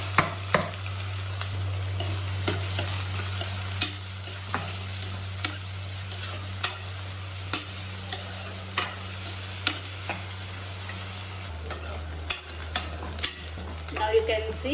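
Bay leaf and finely chopped onion frying in oil, a steady sizzle broken by repeated scraping stirs of a spoon against the pan, alone with no voices.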